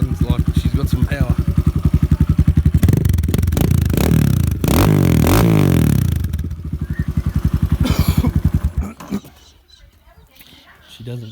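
A GMX 250cc X Series dirt bike engine, heard up close, revs loudly through several rising and falling throttle blips over a pulsing idle, then drops away near the end.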